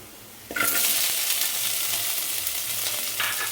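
Green chillies hit hot oil in a pan for garlic chilli chicken with a sudden loud sizzle, then keep frying steadily as they are stirred, with a brief scraping stir near the end.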